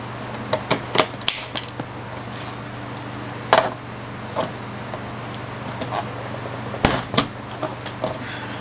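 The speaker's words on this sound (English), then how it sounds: "use it just like a hole punch. And I'm cropping my corners off." A corner punch crops the corners of a handmade argyle card, giving several sharp mechanical clicks and snaps spaced across the span, close and fairly crisp over a low steady hum.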